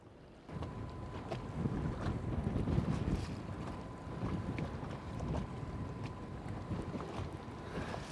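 Strong wind buffets a microphone on a fishing boat out on the water near a reef, a constant rough, gusty roar that starts abruptly and stays loud throughout, with no talk.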